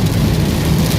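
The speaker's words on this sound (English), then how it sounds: "But it's a-raining." Steady, dense hiss of rain falling hard, with a low rumbling undertone throughout; no voices.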